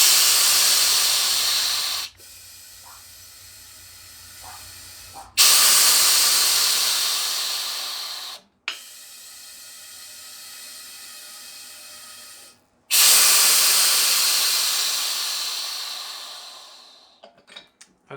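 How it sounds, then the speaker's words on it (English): CO2 gas hisses loudly into a beer keg through its gas-in post during purging, in long steady bursts separated by pauses and brief valve clicks, fading out at the end. "We're going to stick our gas on the gas in and fill this keg with CO2 only"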